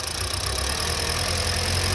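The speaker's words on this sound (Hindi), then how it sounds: "एयर जो बची हुई थी वो निकल गई इंजेक्टर में से, और अब बिल्कुल शांत इंजन है बिल्कुल।" Hyundai Creta petrol engine idling after injector cleaning, a steady close hum with a low even throb and constant hiss, no talking over it.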